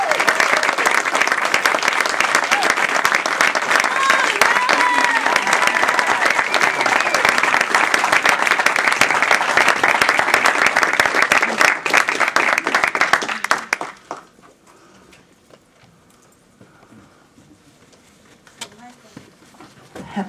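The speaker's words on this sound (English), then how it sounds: "Hand of applause for Anise Anderson." Sustained loud applause from a large audience at a Toastmasters speech contest fills the room for several seconds, then cuts off abruptly into quiet murmuring and a few stray claps.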